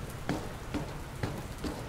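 Indoor sprinkler rain falling inside a building in the game Dr Langeskov, a steady hiss of drops with soft periodic patters recurring about every half second, fairly faint and alone.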